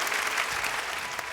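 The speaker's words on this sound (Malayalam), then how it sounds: "ഭയങ്കര വലിയ കൈയടി കൊടുക്കണം." Steady, dense applause from a large studio audience at a televised comedy show, loud and continuous throughout with no gaps.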